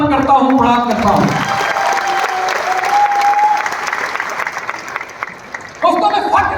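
An audience at a speech event in India applauds loudly and steadily for several seconds, the clapping fading briefly before a voice resumes speaking over it.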